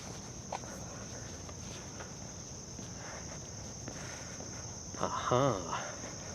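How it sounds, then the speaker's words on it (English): Steady high-pitched crickets chirp faintly in the background of Central Park, Manhattan, New York City, with light footsteps and a brief voice near the end. "Definitely hear crickets in between now."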